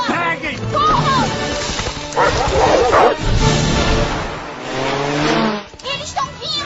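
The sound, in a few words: dogs barking in the film Up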